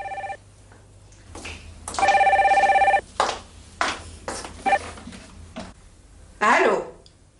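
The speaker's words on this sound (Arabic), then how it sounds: "نروح نجاوب في التليفون" A telephone rings in loud repeated bursts in a domestic scene from an Algerian TV series, with people talking in between the rings.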